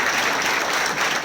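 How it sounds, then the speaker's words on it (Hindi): A crowd gives hearty applause for a company CEO at a business gathering, continuous and full throughout, with no voices over it. "एक बार उनके लिए जोरदार तालियां।"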